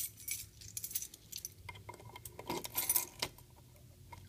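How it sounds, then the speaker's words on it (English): A bunch of keys jangling and clinking up close, in several bursts of metallic rattling with short pauses between, fairly quiet and with no talking. "Always get the keys mixed up."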